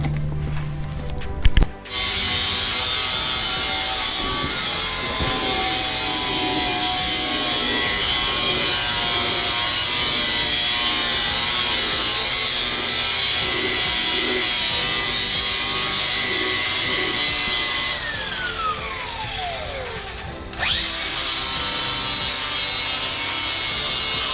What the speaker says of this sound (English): Just sanding it down, huh?